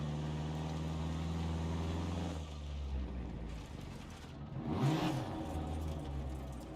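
A rally racing video game car's engine revs under throttle, played with an Xbox 360 controller, rising and falling in a steady loud drone, then surging again midway before settling into a lower running hum.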